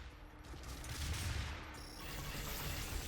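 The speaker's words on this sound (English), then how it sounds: "You know, even with the super shotgun at that range, it works." Heavy gunfire from the super shotgun in DOOM (2016) during a Spider Mastermind boss fight, dense blasts layered under a constant roar of game combat noise.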